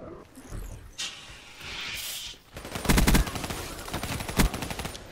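Gunfire in an online shooter game, with a burst of rapid automatic shots loud in the foreground, a few sharper single cracks, and a brief engine-like whoosh before the firing.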